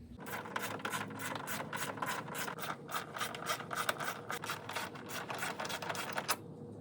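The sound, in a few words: removing 10 mm bolts from S10 radiator cover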